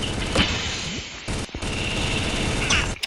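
Rapid gunfire in a video game duel, loud bursts of shots and booms filling the whole stretch with brief breaks.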